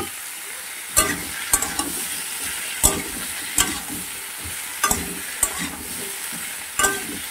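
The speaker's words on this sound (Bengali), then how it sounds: "এগুলো খুব ভালো করে ভেজে নিতে হবে।" Pumpkin pieces frying in oil in a pan while cooking a prawn and pumpkin curry give a steady sizzle, with a handful of sharp clinks and scrapes as the pieces are stirred.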